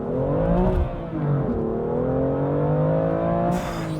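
A 2021 BMW M2 CS engine revs hard during spirited driving, its loud, steady drone climbing and easing in pitch, then rising again near the end, close and continuous with no talking.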